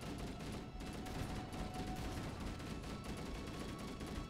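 Gunfire in the video game Halo: Combat Evolved, a dense continuous stream of rapid shots forming a steady wash of noise throughout, fairly quiet in the mix, with no speech.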